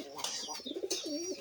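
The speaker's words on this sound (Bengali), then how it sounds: "এই যে অনেকগুলা কবুতর হয়েছে, বন কবুতর" Wild pigeons cooing in a backyard pigeon house, a few soft throaty coos and calls from several birds close by, with faint background voices.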